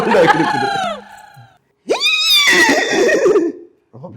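A horse whinnies loudly twice, each call a rising then falling shrill neigh, with a brief pause between them and close by.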